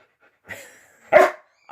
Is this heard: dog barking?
yes